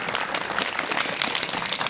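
Audience applause at a school quiz competition in a government inter college, a short burst of steady clapping from the assembled students, fairly close and continuous.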